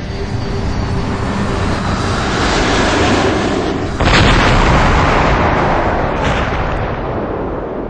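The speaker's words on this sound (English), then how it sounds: "two planes hit the Twin Towers" Planes crashing into the Twin Towers in downtown Manhattan, a loud continuous roar of jet noise and rumbling blast with a sharp surge partway through, dense and close without any voices.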